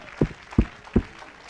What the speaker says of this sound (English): I think we ought to clap our hands unto the Lord tonight.